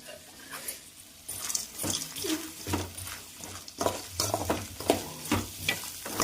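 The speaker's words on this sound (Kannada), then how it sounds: "ಆಮೇಲೆ ಒಂದೆರಡು ಸ್ಪೂನು ಹುರ್ಗಡ್ಲೆ ಹಾಕ್ಕೊಂಡು ಇದನ್ನು ಚೆನ್ನಾಗಿ ಫ್ರೈ ಮಾಡಬೇಕು" Pepper, cumin and roasted gram frying in a pan while being stirred, with steady sizzling broken by repeated scraping strokes of a spoon, close and fairly loud, no voices.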